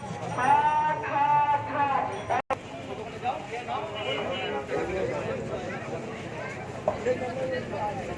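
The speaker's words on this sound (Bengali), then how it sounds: "বিরাট গরু ছাগলের হাট" At a busy cattle and goat market, a goat bleats several times in wavering calls over steady crowd chatter and background noise.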